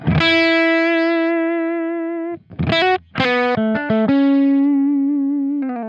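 A clean electric guitar through an amp's FET input rings out single notes and short phrases with sustained tones, played close and fairly loud with no one speaking.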